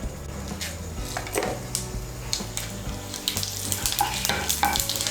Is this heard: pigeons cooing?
no